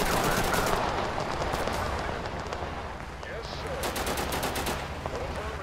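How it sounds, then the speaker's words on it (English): Heavy machine guns firing in the war game Total Conflict Resistance, a dense, continuous rattle of rapid gunfire with bursts overlapping throughout at steady loudness. "So we've got some heavy machine guns pointing down every avenue."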